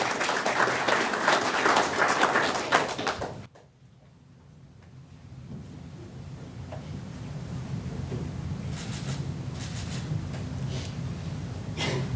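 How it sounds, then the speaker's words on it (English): Audience applause at a high school career signing day ceremony, steady clapping for a few seconds that stops abruptly and leaves room noise with faint movement. "Let's have a big round of applause for Corey Wilson from Hunter HUSS High School."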